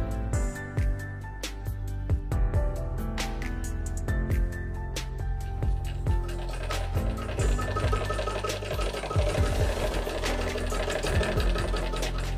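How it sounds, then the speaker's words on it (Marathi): A sewing machine stitches a straight seam in steady rapid mechanical chatter, close and loud, with brief pauses and restarts and scattered clicks of the mechanism; no talking. "तर आता आपण इथून शिलाई देऊन घेऊयात।"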